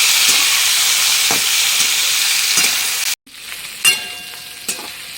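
Bitter gourd, potato and pointed gourd frying together in a pan, a steady loud sizzle with occasional stirring clacks, a sharp cut midway, then quieter hissing with a few knocks from the utensil.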